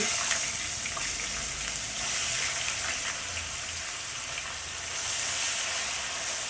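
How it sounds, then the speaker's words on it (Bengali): Potato pieces fry in hot oil left over from frying fish, with a steady bright sizzle and crackle that stays even throughout, close and continuous with no talk. "এখন এই একই তেলের ভিতরে আমি দিয়ে দিচ্ছি কিছুটা আলু"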